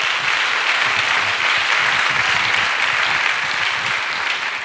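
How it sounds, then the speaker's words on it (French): A church congregation claps for Jesus Christ, steady dense applause from a crowd sustained throughout at full, even loudness. "Acclamons pour Jésus-Christ. Clap for Jesus Christ."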